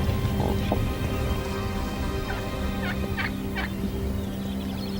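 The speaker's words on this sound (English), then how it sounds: "there's about 5 or 6 big gobblers in there" Several wild turkey gobblers call from a roost, a series of brief warbling gobbles repeated at a middle distance over steady background noise that sounds like rain, with no talk.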